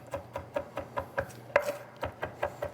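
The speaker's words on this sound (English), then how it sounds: "I'm gonna smash those real good. Give it a good chop." A knife chops smashed garlic cloves on a cutting board in a steady series of about a dozen crisp, evenly spaced strikes, close and clear with no voices.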